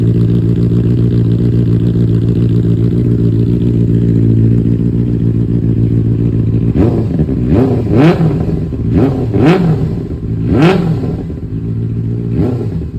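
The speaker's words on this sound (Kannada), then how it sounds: "ಆನ್ ಮಾಡ್ತೀನಿ ಈಗ ಗಾಡಿನ. ನೀವೇ ನೋಡಿ ಯಾವ ಥರ ಬರ್ತಾ ಇದೆ ಸೌಂಡು ಅಂತ." A Benelli 600i motorcycle with its dB killer removed idles steadily and loudly nearby, then takes a series of sharp throttle blips, five or six quick revs rising and falling over the idle, with no talking.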